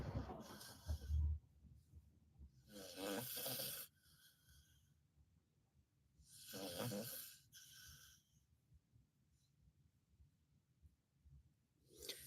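Snoring breaths recur in slow, rough bursts a few seconds apart, deep and raspy like an adult's, with quiet pauses between them.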